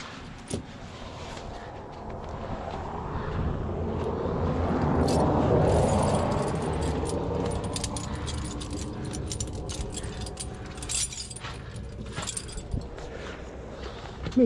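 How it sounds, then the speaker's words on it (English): Snow chain for chaining up on Hwy 58 being draped over a car's inside tire, with jangling metallic clinks of the links and scraping, near and intermittent, under a low outdoor hum. "And then take the other half of the chain and drape it over"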